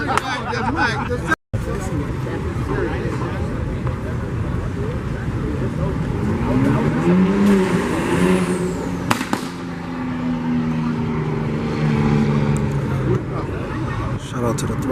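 A Dodge 392 Scat Pack rumbles and revs at a cars-and-coffee meet in New York. The engine roar rises and swells through the middle of the clip under steady crowd chatter and outdoor noise.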